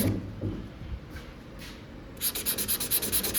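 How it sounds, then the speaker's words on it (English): Coarse 80-grit sandpaper roughening a car body panel to prep areas for filler: quiet scratchy rubbing at first, then a run of about eight quick, even back-and-forth sanding strokes near the mic. "I have a piece of 80 grit, and I like to just roughen up the areas that need filler."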